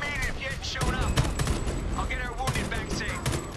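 Gunfire rattles through a firefight in Homefront: The Revolution as repeated sharp shots and short bursts, with a voice talking over the shooting.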